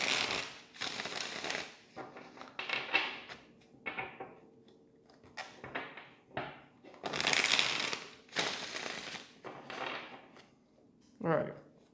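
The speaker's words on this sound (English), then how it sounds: "Two more shuffles." Tarot cards being shuffled up close in a series of quick, rustling bursts with short pauses between them, each riffle loud and crisp.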